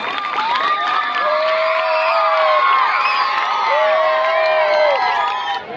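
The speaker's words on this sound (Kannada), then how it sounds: "ಅದಕ್ಕೆ ಅವ್ರು ಜೋರ ಚಪ್ಪಾಳೆ ಹೊಡ್ರಿ" A crowd cheers and children shout and whoop at a school children's event in Annigeri, with lively overlapping voices sustained throughout and only light clapping mixed in.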